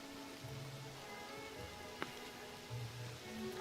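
Rain falling outdoors, a soft steady hiss with scattered faint drops and a brief sharp tick midway, heard from fairly close and quiet overall.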